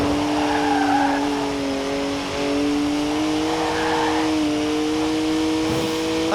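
A twin-turbo three-litre straight-six BMW 1M, 335 horsepower, drifts in the racing game Forza Horizon 4, its engine holding a steady droning tone that rises and dips slightly, with tyre squeal and skidding throughout, loud and close with no talk.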